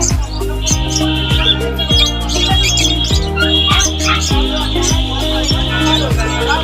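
Lovebirds at the Sherampore pet market chirp and tweet repeatedly over a busy, rhythmic background with some voices, keeping up a bright, continuous chatter.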